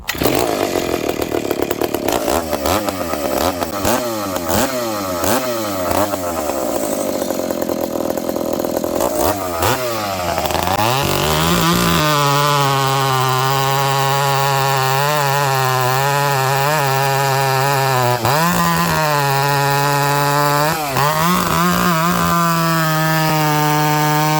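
Ported McCulloch Pro Mac 850 chainsaw in -35C cold, sputtering and revving erratically as it starts, then settling into a loud, sustained cutting roar with pitch dips under load, close up with no talk.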